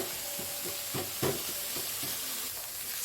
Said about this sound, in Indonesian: Terus ditumis sampai warnanya berubah dan tekstur ayamnya menjadi kaku.